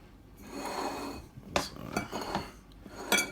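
Kitchen knife slicing through fresh spinach leaves on a board for a spinach and bacon quiche, a few crisp, close chopping strokes and taps with soft rustling between them.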